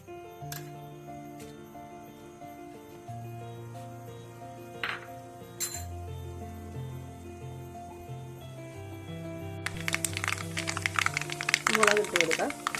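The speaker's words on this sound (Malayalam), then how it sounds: "എണ്ണ തിളച്ചിട്ടുണ്ട്, കടുക് ഇട്ട് കൊടുക്കാം." Mustard seeds hit hot coconut oil for a wild jackfruit pickle and burst into a dense, loud crackling sputter near the end, over steady background music.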